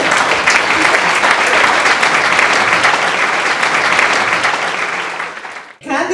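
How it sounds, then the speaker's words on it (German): Loud, dense applause fills a hall at a farmers' ball midnight show, sustained clapping from a large audience that fades near the end before a brief new burst. "bitte einen Applaus!"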